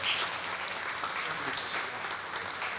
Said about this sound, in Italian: Quindi un grazie di cuore, un grande applauso per il suo impegno, la sua figura, al nostro candidato presidente Giovanni Manisi.